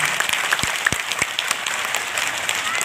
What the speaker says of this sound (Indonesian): Tepuk tangan dong untuk beliau dan keluarga.